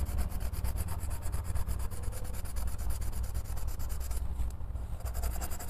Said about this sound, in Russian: вроде бы карандаши нормально ложатся